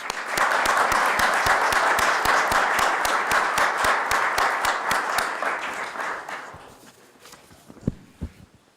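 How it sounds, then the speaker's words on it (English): An indoor audience at a government recognition ceremony for forest rangers gives a sustained round of applause of dense clapping that tapers off after about six seconds, leaving a few scattered claps and a thump. "Let's give him a round of applause, please."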